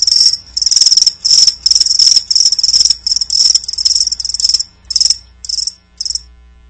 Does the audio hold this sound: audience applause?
no